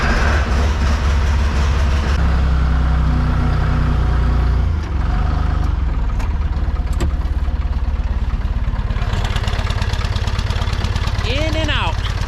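A heavy vehicle engine rumbles loudly and continuously up close while pulling a Ford 8600 tractor out, with deep low idling throbs and clanking, a shift in tone partway through.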